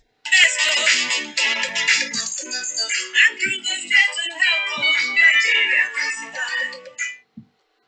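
A telephone rings for a caller to a live radio phone-in. The ringtone is a warbling electronic trill, loud and close, running for several seconds with brief gaps before it stops.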